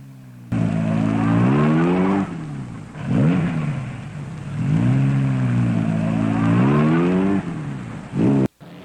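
A race car speeds through a street-racing film scene, its engine climbing loudly through repeated rising revs and gear shifts, with no talking.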